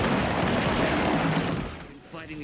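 Heavy gunfire from the Bad Boys II movie trailer, a dense, loud barrage of shots and blasts over a voice, easing off briefly near the end.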